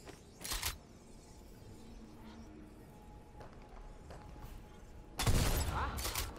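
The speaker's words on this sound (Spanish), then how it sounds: "Ah, espera, que es una escopeta." Shotgun blasts in Fortnite: a sharp single report near the start, a quiet stretch of faint game ambience, then a louder burst of gunfire near the end.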